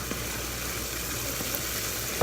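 Ground beef browning in a pan with minced garlic and onion, a steady close sizzle with a few faint scrapes, constant and even throughout, no voices.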